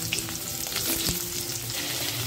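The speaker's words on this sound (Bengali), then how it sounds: "তেল গরম হয়ে এলে পটল ভেজে নিতে হবে।" Pointed gourd pieces frying in hot mustard oil in a wok, a steady close sizzle with occasional stirring scrapes and clinks, no talking.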